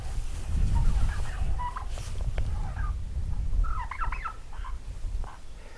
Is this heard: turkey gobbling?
yes